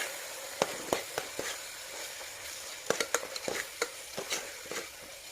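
Vegetables fry in a pan with turmeric, coriander powder, garam masala and salt for vegetable pulao, a soft background sizzle broken by sharp scraping and stirring clicks from a spoon, no voices.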